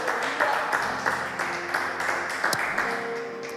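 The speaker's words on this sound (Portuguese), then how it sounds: "aplauda ao Rei" A church congregation at an evening sermon applauds with a sustained patter of many hands, steady and moderately loud, with a tonal musical hum running underneath.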